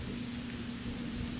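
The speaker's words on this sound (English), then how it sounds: "This is crazy the way that it keeps raining." Steady rain falls outdoors, a constant even hiss of drops that carries on unbroken from start to finish, with a faint low hum beneath it.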